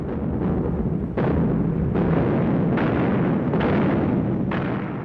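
A massive artillery barrage rolls on with repeated loud, booming blasts at irregular intervals, each crack merging into a continuous heavy rumble with no voices.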